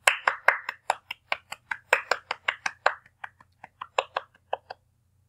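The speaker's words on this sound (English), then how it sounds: "I'm still gonna clap" Hand clapping, about twenty sharp claps in a quick, slightly uneven rhythm, close and fairly loud, with no other sound in between, slowing and thinning toward the end.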